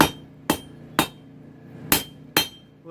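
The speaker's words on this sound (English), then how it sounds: "I've switched to my smaller ball peen hammer" A small ball peen hammer strikes a knife blank being forged from a chainsaw bar, five sharp ringing blows in an uneven rhythm, loud and close with quiet gaps between, no voices.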